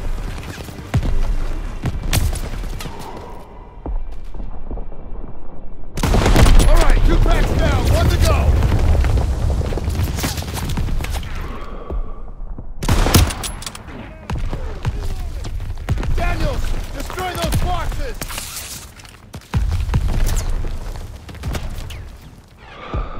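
Bursts of gunfire and booming explosions from a World War II battle in Call of Duty: WWII, targeting ammo boxes, loud and dense with shouted voices over the shooting.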